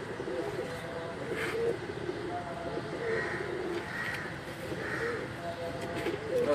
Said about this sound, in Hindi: ये जी नाक कबूतरों की पट्टी है माशाल्लाह